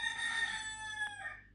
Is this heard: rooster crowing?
yes